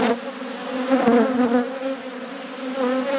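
Honeybees in an open hive, a strong colony with honey stores and a queen ahead of winter, fill the air with a loud, close, continuous buzzing drone that wavers in pitch.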